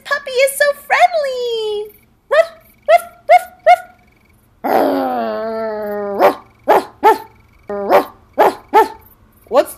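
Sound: puppy barking

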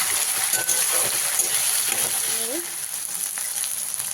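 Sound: frying tomato and ginger paste in a pan

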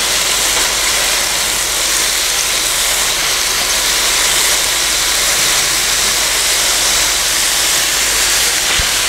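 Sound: minced pork sautéing in a pan

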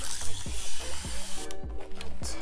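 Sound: spray bottle spraying water onto hair

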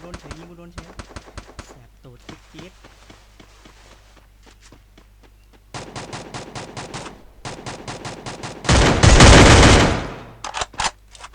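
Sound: gunfire in a video game shooter

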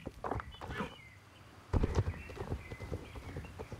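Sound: horse hooves while riding in video game Star Stable Online

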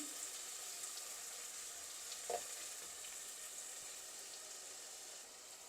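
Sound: onion, green chilli, curry leaves and garlic sautéing

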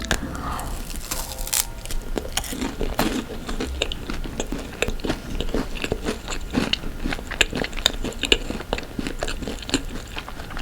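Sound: biting crunchy pastry

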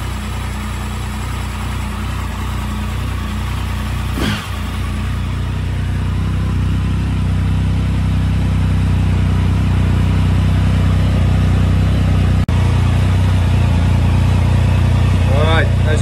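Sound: Triumph Tiger 1050 motorcycle engine running during throttle body balancing

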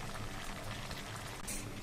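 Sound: curry boiling in a pot

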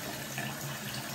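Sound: water draining from new bathroom sink faucet

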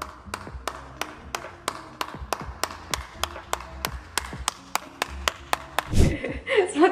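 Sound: applause, clapping

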